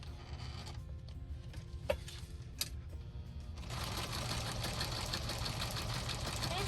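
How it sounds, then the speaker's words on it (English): A sewing machine starts up and runs a zigzag stitch steadily with a fast, even mechanical chatter after a few quiet clicks, close and moderately loud. "stitch it on. I'm using a zigzag stitch."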